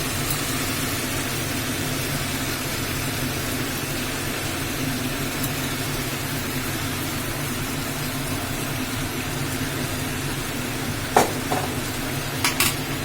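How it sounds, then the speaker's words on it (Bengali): Kolkata-style chow mein noodles with chilli sauce and tomato ketchup stir-fried in a pan, a steady broadband sizzle with faint scraping, holding even throughout with a couple of brief clinks near the end, no voices. "এইবার চাউমিনটাকে ভালো করে নাড়বো।"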